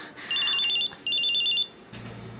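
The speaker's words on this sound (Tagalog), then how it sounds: "Ang cellphone ko." A cellphone rings in two bright electronic bursts, loud and close, followed by a short quiet gap in a radio drama scene.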